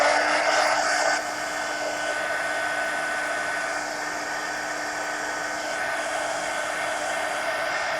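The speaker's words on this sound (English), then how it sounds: "let me hit this with a heat gun." A heat gun blowing over a mixed media magazine journal page, a steady close whirring hiss with a whine running throughout, slightly louder in the first second before settling into an even drone.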